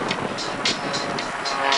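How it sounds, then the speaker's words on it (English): A Pitts aerobatic plane climbs at the 2010 NAF El Centro air show, its engine a steady distant drone with rhythmic swells and some wind noise over the microphone. "And there goes Spencer Suderman and the Meteor Pitch climbing up to gain energy for his routine."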